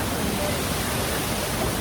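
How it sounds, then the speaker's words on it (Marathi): Mormarewadi waterfall near Kamshet in the monsoon, a loud, dense, unbroken roar of falling water filling the whole clip, heard up close. "तुम्हाला दिसेल माझ्या मागे धबधबा बघा किती मस्त आहे"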